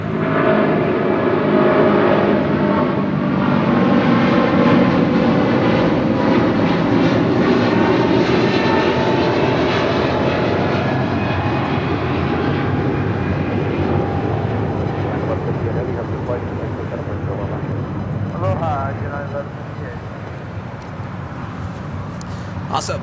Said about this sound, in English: United Airlines flight 1158 in this 777-200